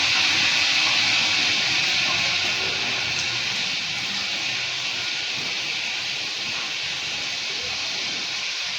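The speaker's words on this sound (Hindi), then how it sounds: "अभी इसमें डालेंगे ये देसी घी और इन इलायचियों को अच्छी तरीके से भूनेंगे" Cardamom pods sizzling in hot desi ghee for jaggery rice, a steady close frying hiss that holds evenly throughout, with no voices.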